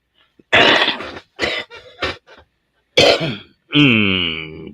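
A person coughs and clears their throat several times in harsh, close bursts with short pauses, ending in a longer strained rasp.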